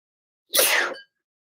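A single short, sharp sneeze bursts out close to the mic, lasting about half a second and followed by silence.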